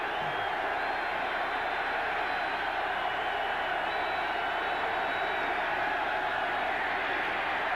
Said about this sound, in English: The crowd exhorting the Cornhusker defense.